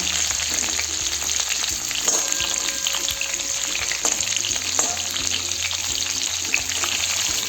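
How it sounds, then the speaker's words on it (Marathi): Bitter gourd (karela) sizzles and fries in a pan, a continuous loud crackling sizzle with occasional sharper pops and light stirring clatter throughout. "आता एक छान अशी एक साईडने भाजून द्यायचे थोडेसे"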